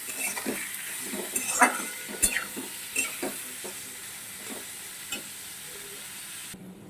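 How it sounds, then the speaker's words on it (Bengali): Prawns frying lightly in a pan for a mustard, poppy seed and bell pepper prawn dish, a steady soft sizzle with scattered utensil scrapes and clinks close by, no talking. "চিংড়ি মাছ অলওয়েজ হালকা করে ভাজতে হবে"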